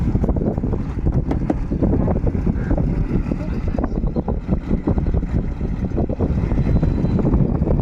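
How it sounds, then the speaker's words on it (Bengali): Strong wind roars steadily across the microphone aboard a trawler boat on a Bangladesh river, a constant loud buffeting rush with an engine-like rumble underneath and no pauses. "কি সুন্দর হাওয়া, কি পরিমাণ বাতাস"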